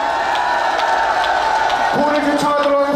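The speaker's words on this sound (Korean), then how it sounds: "뜨거운 함성과 경쟁의 박수 보내주시면 감사하겠습니다." Crowd at an outdoor political rally in front of a duty-free shop in Gwanghwamun, Seoul, roars and cheers steadily, with whoops and scattered clapping mixed into a dense, continuous wall of voices.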